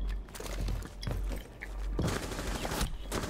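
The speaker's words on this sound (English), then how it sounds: "Yeah, shooting." Gunfire in the military shooter game Squad: bursts of rifle and machine-gun fire, some sharp and near, others rolling and farther off, with a dense heavy volley near the end.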